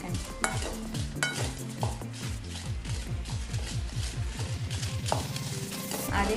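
Dried red chillies fry in a pan while a spatula stirs them, giving a steady sizzle broken by repeated scraping strokes that run throughout at close range.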